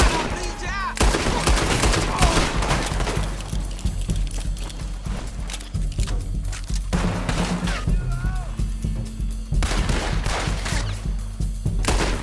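Gunshots in Red Dead Online ring out loud and close in a rapid string of cracks with thumps and hoofbeats mixed in, and a voice speaks between them.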